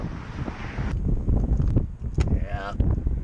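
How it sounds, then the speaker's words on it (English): Cold, sudden wind gusts across the microphone on a cycling trip by the shore, a rough rumbling buffet with brief voices and a small metallic squeak partway through. "The sun disappeared and it got really windy all of a sudden."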